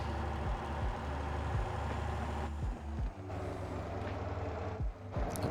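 Sharp hissing air-brake releases from a bus in Motor Town repeat at intervals of about a second over a steady low engine rumble, with no talking.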